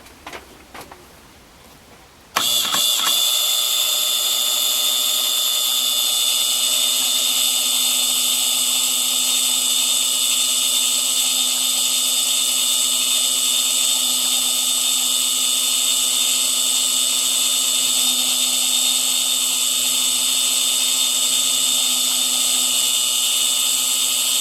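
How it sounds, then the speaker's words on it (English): High-speed drill held in a milling machine boring a half-millimetre hole through brass about 6 to 7 mm thick, a sudden start into a loud, steady high-pitched whine that holds unchanged for over twenty seconds. "I'm going to try and drill a 1/2 mil hole through this piece of brass"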